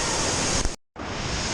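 A waterfall pours inside a cave in Bali, a steady loud broadband roar that cuts out briefly for a moment before resuming at the same level.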